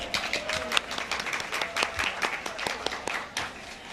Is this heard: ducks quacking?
no